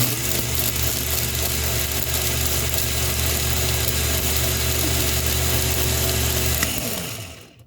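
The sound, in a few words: blender blending a drink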